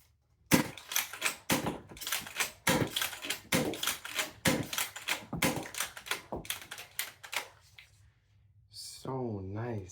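A realistic Nerf gun fires in a rapid string of about twenty sharp, close mechanical clacks over eight seconds, followed by a brief squeaky whir.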